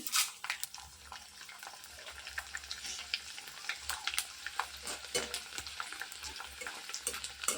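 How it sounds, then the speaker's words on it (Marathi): Maize chivda frying in hot oil in a kadhai, a steady broad sizzle crackling throughout with bright spattering pops and a low hum underneath, close and continuous with no talk. "त्यामध्ये मी मका चिवडा थोडासा तळून घेणार आहे"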